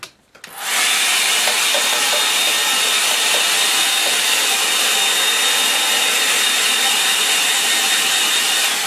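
A hair dryer switches on and blows steadily to dry the surface of a painting, a loud continuous airy roar that holds unchanged after a brief start.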